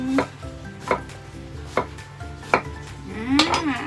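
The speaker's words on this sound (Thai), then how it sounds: "อันนี้สำหรับใส่แกงเนาะต้มป่าแกงป่าแกงอ่อมอะไรนี้แม่จะหั่น หนา" Vegetables are sliced thickly with a knife for a Thai country curry, four evenly spaced, crisp chops on a board followed by a brief scraping clatter, close and clear with no talk.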